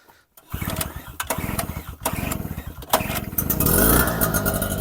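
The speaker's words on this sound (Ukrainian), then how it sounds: "Приніс генератор, зараз заведу." A portable petrol generator is started, a pull-cord rasp followed by the engine catching and sputtering, then settling into a loud, rising buzzing run, close by without talk.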